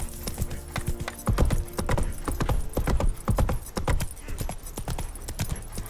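Hooves of the horse Roach clip-clopping in The Witcher 3, a close, loud, quick rhythmic trotting with sharp repeated hoof strikes throughout.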